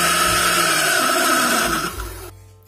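A food processor whirs loudly as it mixes flour, baking powder and salt for pastry dough, a steady motor drone that winds down and stops near the end.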